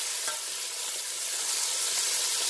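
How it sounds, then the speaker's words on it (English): Vegetables being stirred in a frying pan for a light stir-fry, giving a steady close sizzle with soft scraping stir sounds throughout, no voices. "my veggies, I'm just gonna take and stir them up real good."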